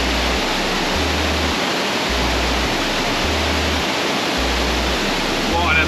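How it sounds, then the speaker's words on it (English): Shower water runs steadily in central Sulawesi, Indonesia, making a dense, even hiss that fills the whole stretch at constant loudness with no voices. "I'm going to take a shower now."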